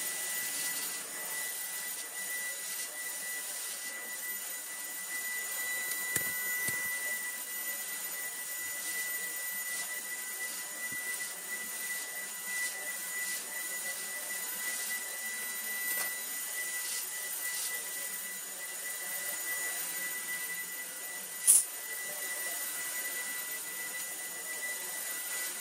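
A Tineco Carpet One Pro carpet cleaner runs steadily over a rug bought secondhand, giving a constant whining motor drone with a brief sharp click near the end and no talking.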